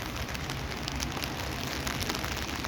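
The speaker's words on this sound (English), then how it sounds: "it's raining" Rain falls steadily outdoors, a dense, even hiss of drops spattering on surfaces, close and continuous with no voices.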